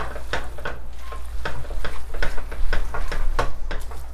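Pasta carbonara with bacon pieces being stirred and tossed in a pan, with a steady rhythm of soft knocks and scrapes over a low sizzle and hum.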